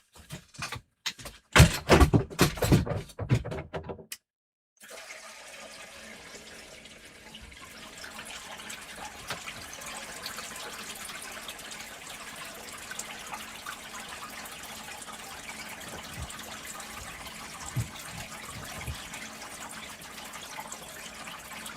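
Water rushing steadily through a gold sluice outdoors, a broad continuous wash after a few seconds of louder handling knocks and a brief cut to silence, no voices over the flow.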